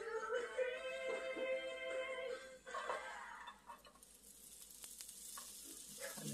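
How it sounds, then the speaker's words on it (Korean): Chopped onion sizzles and crackles in olive oil in a hot pan, a steady frying hiss with a few clinks and stirring noises. "야채를 하나씩 볶기 시작할 거예요."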